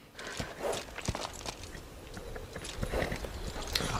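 Horses walk along at an easy pace, hooves clip-clopping in an irregular rhythm of moderately close, fairly soft knocks against a faint background.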